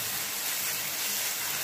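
Ginger garlic paste frying in a pan for a soya chunks pepper fry, giving a steady, dense sizzle and hiss that holds evenly at close range with no talking.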